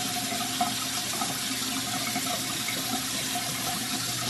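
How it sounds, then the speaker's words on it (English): Water runs from a tap in a steady, even stream, close and constant throughout, with no talking. "I just got this water running."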